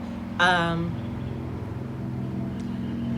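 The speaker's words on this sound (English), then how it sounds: "letting the loud car pass by" A loud car passes by outdoors, a low engine rumble that builds and lingers for several seconds, with a brief sharp sound near the start and a voice faintly present.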